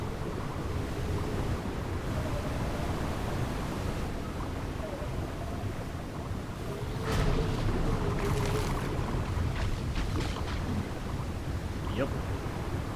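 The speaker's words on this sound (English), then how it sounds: "am I getting near a waterfall or something?" A rushing waterfall in the survival game ARK gives off a steady broad roar of falling water that swells slightly midway, with a voice speaking over it in brief bursts.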